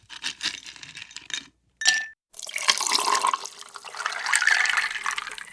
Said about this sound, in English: So pour a glass of whatever you're drinking